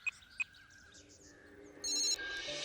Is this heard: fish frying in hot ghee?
no